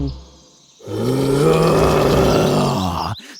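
A deep, drawn-out lion groan, low and rumbling, rising after a short quiet start and holding steadily for a few seconds before cutting off.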